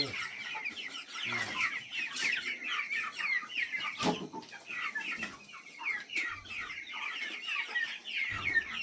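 Several chickens cluck and chatter close by in an uneven, busy stream of short calls, with occasional louder squawks and knocks and no talk.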